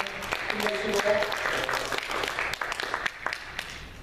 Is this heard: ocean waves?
no